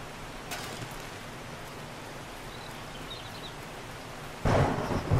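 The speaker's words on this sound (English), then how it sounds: "it's because it's raining, isn't it?" Steady rain with a deep thunder rumble during a thunderstorm in the survival game 7 Days to Die, the downpour holding an even wash before a louder, closer burst of storm noise swells at the end.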